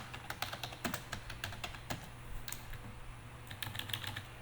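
Computer keyboard keys are tapped in an irregular run of quick, crisp clicks, fairly close and alone, with no talk.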